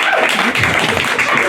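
A comedy-show audience gives a brief, loud burst of applause, with dense clapping that fills the room throughout.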